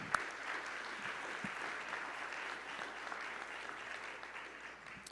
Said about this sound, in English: let's give a round of applause for all the recipients